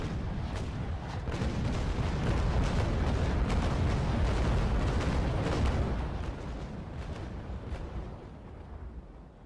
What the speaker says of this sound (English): We are going to cop another full frontal blast as we turn back to get our port guns in range.